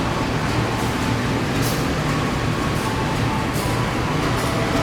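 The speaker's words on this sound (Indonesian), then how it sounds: "Dan ini jalur 1 masuk KRL" KRL Jogja–Palur electric commuter train pulling into track 1 at a station, a steady broadband rumble and rolling hum with faint squeals throughout, fairly loud and continuous, no talk.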